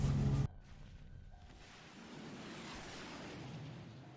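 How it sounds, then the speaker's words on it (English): Rockets launching in Fallout New Vegas: a loud, dense burst for the first half second cuts off sharply, then a long, lower rumbling whoosh builds and carries on steadily. "as we saw the rockets awkwardly take off"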